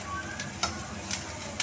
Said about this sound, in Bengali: ডিমটা আমি ভালো করে ভেজে নিলাম